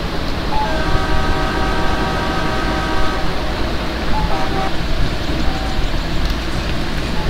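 An Indian Railways train backs up in the Open Rails train simulator game, with a steady low rumble of engine and rolling wagons and long, even horn-like tones sounding through the first half.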